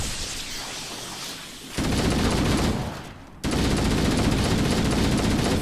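Weapons fire in Halo: Combat Evolved, including rocket launchers, roars in two sustained loud bursts separated by a brief lull, dense and continuous with no talk.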